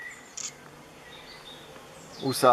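Honeybees buzz softly and steadily on beehive frames as the hive is inspected outdoors, a faint continuous drone with a sharper, louder rise of buzzing and rustle at the end.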